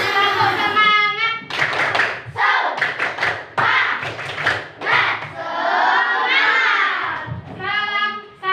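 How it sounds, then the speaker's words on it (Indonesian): Students in an Indonesian classroom chant and clap the rhythmic tepuk semangat together, loud group voices alternating with sharp bursts of patterned claps, close and lively. "Tepuk semangat dulu yuk"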